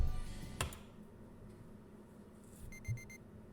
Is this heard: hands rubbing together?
no